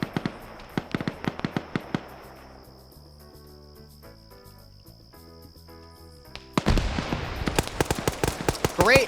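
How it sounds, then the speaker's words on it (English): Sharp gunshots crack in a PvP multiplayer shooter. The single shots spread out at first, then a quiet stretch carries steady musical tones, and after that a dense, loud burst of rapid fire. "Great headshot right there."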